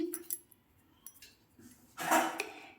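A spoon clinks and scrapes faintly against a bowl in a few scattered taps while salt is stirred into a creamy protein salad, ending in a brief louder rustle of mixing.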